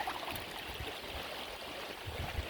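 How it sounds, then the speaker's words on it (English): Steady rushing, gurgling water flowing continuously through a gold prospecting sluice, with faint low rumbles underneath and no talking. "Definitely not optimum water flow."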